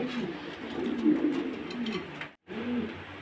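A pair of German shield pigeons cooing close by, soft throaty rolling coos repeating over a few seconds with a brief gap near the end.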